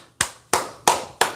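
Four sharp hand claps ring out alone at an even, unhurried pace, close and fairly quiet, each with a short fading tail.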